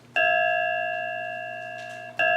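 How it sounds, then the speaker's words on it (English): A clear, bell-like tone of a measuring bowl's pitches rendered as MIDI rings out and slowly fades, then a second identical strike sounds near the end, bright and sustained. "that's the sound of the measuring bowl, realized as MIDI pitches"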